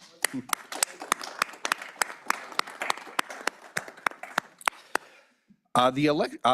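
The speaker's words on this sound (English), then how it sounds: "Let's give him a round of applause." A sparse round of applause at a Wyoming State Canvassing Board meeting: a few distinct, uneven hand claps for about five seconds, then a short silence before a voice begins speaking.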